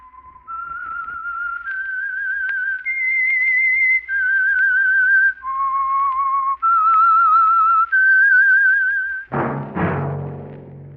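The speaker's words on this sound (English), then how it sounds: "That whistle is your signal for the Signal Oil Program" A clear, loud whistled melody of sustained, slightly wavering notes stepping up and down, the theme of an old radio drama, ending with a brief burst of other sound.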